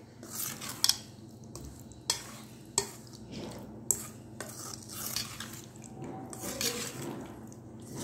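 A spoon stirs and scrapes through a thick amla pickle mixture in a pot, giving close, intermittent clinks and wet squishing strokes at an uneven rhythm.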